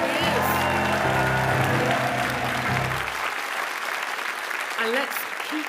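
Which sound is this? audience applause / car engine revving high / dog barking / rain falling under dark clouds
audience applause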